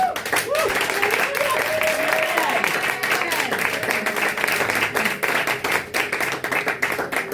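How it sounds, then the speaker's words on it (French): A church congregation claps and cheers in praise of Jesus, with dense, continuous applause and excited voices mixed throughout, fairly loud and close. "Si tu es d'accord avec moi, acclame Jésus."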